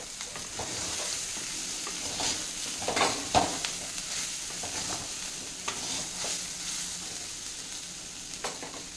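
Raw banana pieces fry in a pan while being stirred, giving a steady sizzle with scraping spatula strokes and a louder clatter near the middle.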